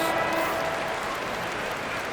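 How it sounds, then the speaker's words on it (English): Arena crowd applauding in the NBA 2K26 basketball game during a 76ers at Bucks career-mode matchup, a steady wash of clapping and crowd noise at moderate distance, with no talk over it. "Give yourself a round of applause."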